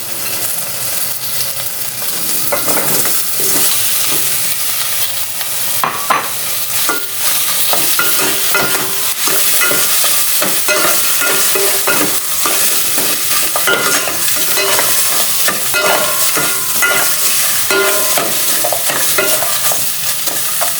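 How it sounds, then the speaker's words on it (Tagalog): Pork pieces frying in a pot for Filipino pochero, a steady loud sizzle running throughout with repeated scraping stir strokes against the pot. "Now, ilalagay na po natin ang ating pork."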